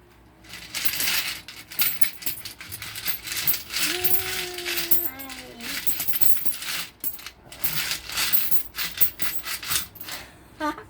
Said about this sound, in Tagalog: Puro barya naman.